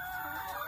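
Laying hens in a small backyard egg-laying coop give off a steady, continuous clucking and murmuring. It is close and fairly loud, with no pause across the short stretch.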